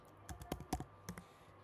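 Keys clacking on a computer keyboard in a short burst of separate taps, close and clear, with no voices.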